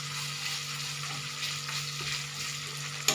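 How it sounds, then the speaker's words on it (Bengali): Onion and tomato frying in a pan for a masala base, a faint, low, steady sizzle with a constant hum underneath and one sharp clink at the very end, with no voices. "তো ভাজা ভাজা হচ্ছে, তারপরে মশলাটা দেবো"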